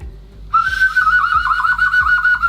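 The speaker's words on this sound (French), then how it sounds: "Le sifflet, il est trop drôle." A shrill whistle, close and loud, begins about halfway through and holds as a wavering sustained blast at the start of a hide-and-seek game in a villa in Mexico.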